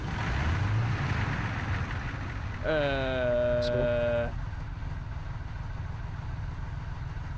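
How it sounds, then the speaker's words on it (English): Vehicle engine in the Mud Runner video game cranks and idles with a steady harmonic drone for about two seconds, loud over game background noise, while someone talks around it. "I gotta start my engine."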